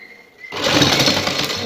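A sewing machine runs steadily, stitching a decorative neck design on a garment. A brief quiet lead-in comes first, then a loud continuous whirring hum to the end.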